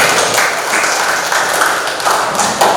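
Applause in a classroom-style session, a steady patter of clapping from a modest group, fairly close and even, with faint murmur underneath.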